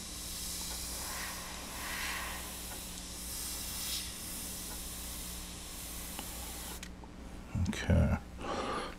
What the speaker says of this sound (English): sometimes you need to reduce the air pressure to make it spray a little smoother